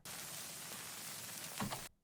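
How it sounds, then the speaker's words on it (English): Soft, steady crackling hiss like vinyl surface noise, quiet and continuous with a few slightly louder pops near the end. "This vinyl, like Foley sound in the background."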